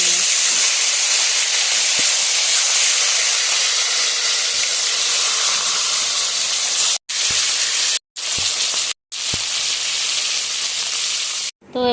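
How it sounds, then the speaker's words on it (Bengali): Fish head frying in leftover oil in a wok, a loud, steady broadband sizzle that runs close-up for most of the stretch, broken by a few abrupt silent gaps near the end. "এই তেলের মধ্যে মাছের মাথাটা ভেজে নিই।"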